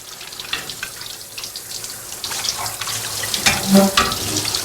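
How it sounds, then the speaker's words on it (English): Running tap water splashes steadily as something is rinsed off under the faucet, a continuous close hiss with small shifts as the stream hits the item, with no talking. "We're going to rinse off the front."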